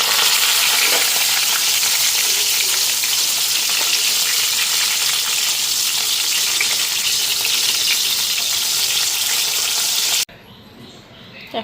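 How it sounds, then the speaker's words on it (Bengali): Leaves coated in a thin gram flour batter fry in hot oil, giving a loud, steady, dense sizzle that runs unbroken for about ten seconds and then cuts off abruptly to quiet room noise. "আর এখন ভাজলাম এগুলো বেসন দিয়া"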